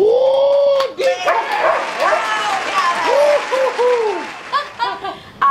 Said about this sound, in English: This is my dog Dee, and she just decided to come to work today.